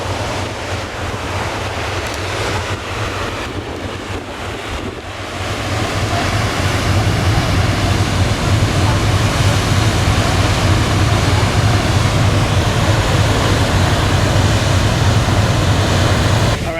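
Waves and wind rush continuously at the back of a ferry heading toward the Sunshine Coast, a loud, steady roar of surf and buffeting wind noise that swells slightly partway through.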